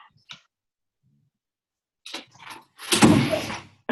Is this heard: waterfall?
no